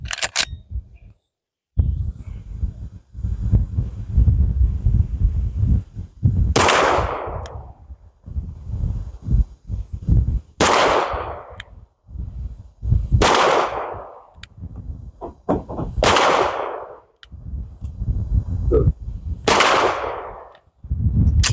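9mm pistol shots ring out one at a time on an outdoor range with a two-handed grip, sharp loud cracks spaced a few seconds apart, roughly six shots with quiet rustling between them.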